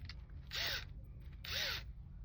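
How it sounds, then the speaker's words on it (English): Two short bursts from a compact cordless electric drill used for game console repairs, each spinning up and winding down about a second apart, close and fairly loud over a quiet background. "I did some research and this drill had good reviews"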